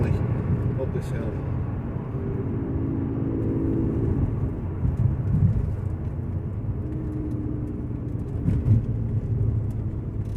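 Car engine pulling steadily in 4th gear at about 48 mph up a steep hill, a continuous low droning rumble with road noise throughout, and someone talking over it.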